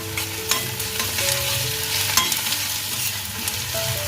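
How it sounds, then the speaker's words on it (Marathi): Onion, garlic and garlic paste frying in a spice tempering with whole garam masala, a loud, close, continuous sizzle broken by repeated stirring scrapes, no talk. "हा कांदा घालते त्याचा पण घालून घेते ही लसूण घालते ही लसूणची पेस्ट घालते"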